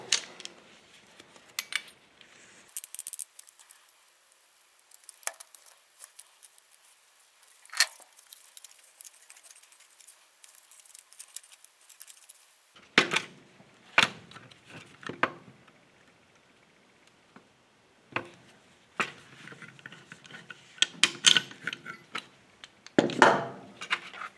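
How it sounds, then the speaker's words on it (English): A pipe cutter wheel works around the sealed cavity of a microwave magnetron, giving scattered metallic clicks, scrapes and ticks in irregular bursts, with quiet gaps between them. The sounds are close and there is no talking. "My approach to these is typically to run a pipe cutter around and break them apart with the pipe cutter wheel"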